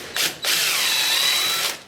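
A small impact wrench fitted with a 4mm Allen socket gives a short burst, then a longer high-pitched whirring rattle as it runs nuts off a machine during assembly, close and loud.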